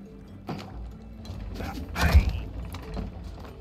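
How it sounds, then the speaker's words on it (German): Screws being driven in during the It Takes Two video game, heard as creaking, grinding mechanical turns with a soft thump near the start and a louder burst of ratcheting in the middle, without speech. "Zuerst die Schrauben reindrehen."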